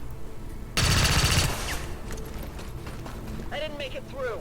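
A short, loud burst of gunfire from an XCOM 2 soldier shooting an enemy, lasting under a second, followed by quieter game effects with faint voice-like tones near the end.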